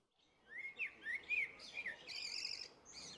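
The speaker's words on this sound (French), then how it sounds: "On les entend siffler et chanter" Wild birds whistle and sing outdoors, a series of short, clear chirping phrases rising and falling, fairly faint and distant against quiet background.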